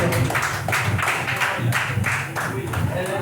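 A church congregation claps hands at a Portuguese-language evening worship service, a close, fairly loud run of rhythmic bursts at a steady beat over room murmur.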